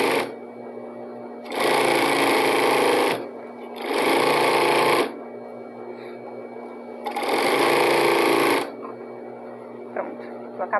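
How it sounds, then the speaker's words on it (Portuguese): Overlock sewing machine stitching and trimming the side seam of a straight skirt, running in three loud, fast buzzing bursts of about one to two seconds each, separated by quieter pauses. "porque lá atrás a overlock ela já vai cortar o tecido, tá? E aí vai fazendo o acabamento."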